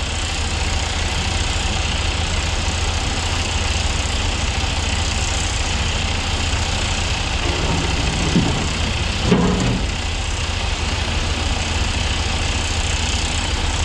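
Heavy truck engine idling and running at a stone quarry while rough stone is loaded, a deep steady diesel drone close by, with a couple of brief clanks from the loading near the end.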